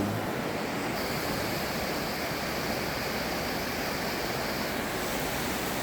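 Steady, dense rushing of a river in Saalbach, Salzburg, Austria, constant and loud throughout with no pauses.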